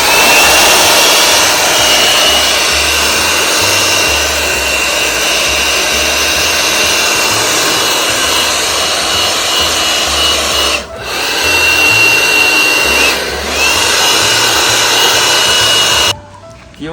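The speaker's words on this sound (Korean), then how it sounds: "월트 선풍기랑 스노피크 선풍기 비교해봤는데 얘가 소리가 더 부드러운 것 같고 얘가 소리가 더 센 것 같고" Two camping electric fans, a DeWalt and a Snow Peak, run side by side on their third speed setting, making a steady, close whooshing hum that holds evenly and then cuts off near the end.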